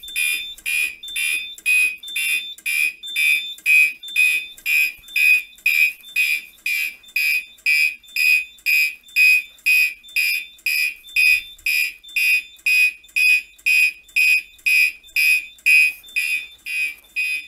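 Gentex Commander fire alarm horns on a Simplex 4010 panel sound a fast march code: rapid, evenly spaced loud horn pulses repeating steadily without pause, close and alone.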